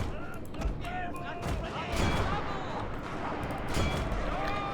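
Musket volleys crackle in a Total War: Shogun 2 Fall of the Samurai battle, several rippling bursts of gunfire layered over a constant loud battlefield din with chatter and shouting.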